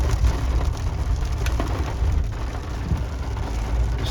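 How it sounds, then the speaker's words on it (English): Steady rain falls on a truck driving on a Sunday trip toward Goose Island State Park, making a dense, constant hiss of drops over a low road rumble with no talking. "It's raining"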